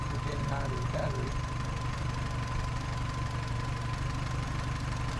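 A 1988 Suzuki Samurai fitted with a 1.6L Suzuki Sidekick engine idles steadily with the vehicle switched on, a constant low rumble with a faint knocking texture running unbroken through the whole stretch.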